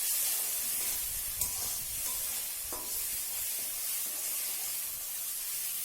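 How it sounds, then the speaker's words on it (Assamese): Rohu fish curry ingredients with salt and Kashmiri red chili powder fry in a pan, a steady hiss and sizzle with occasional stirring scrapes, close and continuous. "এইখিনি মই ভালকৈ ভাজি ল'লোঁ।"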